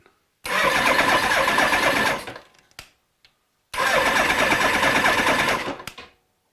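A Suzuki GS1000 motorcycle engine, still without a throttle cable connected, cranks over on the starter in two loud, close bursts of about two seconds each. Rapid rhythmic churning fails to catch and is separated by a pause with clicks.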